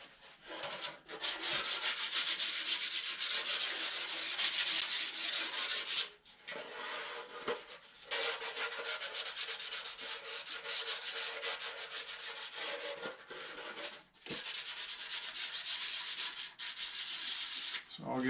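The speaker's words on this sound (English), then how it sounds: "So I'll get these sanded," Wooden model parts finished with shellac are sanded by hand close up, giving steady, fairly loud rasping strokes in long bursts separated by short pauses, with no talking.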